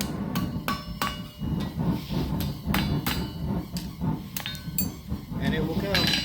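A blacksmith hammers steel on the corner of an anvil while shaping a split cross and horseshoe piece, a steady series of sharp ringing blows with metallic clinks, close and loud, with a voice speaking in the background.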